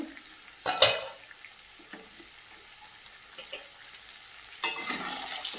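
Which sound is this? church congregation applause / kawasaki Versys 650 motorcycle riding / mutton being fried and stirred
mutton being fried and stirred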